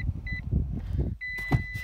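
A 2018 Lexus RX 350L sounds its fold-down seat alarm: two steady electronic beeps, the second held longer, clear and close inside the cabin over low rumbling handling noise.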